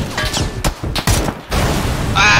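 A board blows up in an online first-person shooter, a few sharp blasts and bursts close by in quick succession, followed by a brief loud burst at the end.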